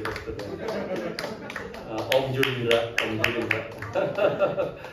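Applause from a worship congregation at a church service, crisp claps rising in waves as someone speaks over the clapping.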